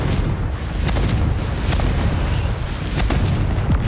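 A Confringo blasting spell in the Hogwarts Legacy video game going off in a series of loud, booming explosive bursts with rumbling low end and sharp crackling impacts, one after another over several seconds.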